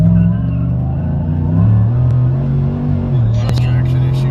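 2021 Chevrolet Silverado with a 5.3L engine and Edelbrock supercharger accelerating hard on a dyno until it hits the speed limiter: a loud, low engine roar with rising and falling pitch, with a voice speaking over it near the end.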